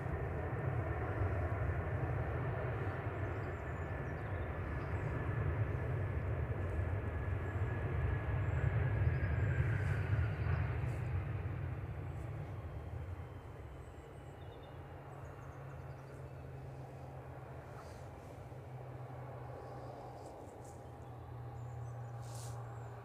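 A jet airliner arriving at Manchester Airport from Bridgetown gives a low roar that swells to a peak, then fades into a quieter, distant rumble, with no talk.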